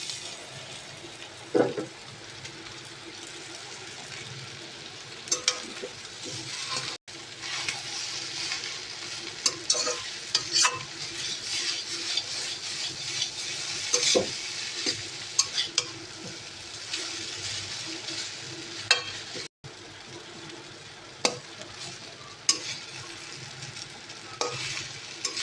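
Hakka noodles frying in a pan with garlic, stirred continuously: steady sizzle under repeated scraping and clinking strokes of the utensil against the pan, close and constant throughout.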